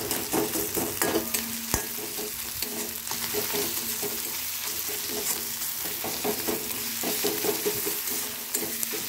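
Onion paste frying in a pan and being stirred with a spatula, a soft continuous sizzle broken by repeated scraping and tapping strokes, close by and moderately quiet, with no talking.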